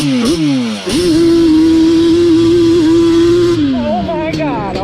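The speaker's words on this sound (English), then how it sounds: "Alright, first gear launch." Yamaha Banshee drag-build ATV launching hard in first gear, its two-stroke engine screaming loudly at a steady high pitch for several seconds, then dropping off and revving again near the end.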